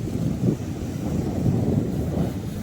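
Sea water surging and splashing near a shore, a steady rushing wash of low broadband noise with swells peaking around mid-clip, mixed with wind buffeting the microphone and no talk.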